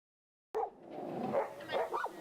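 Dogs awaiting adoption at a weekend pet adoption event outside a Petco store bark and yip in a steady, busy stretch that starts abruptly after a moment of silence, moderately close.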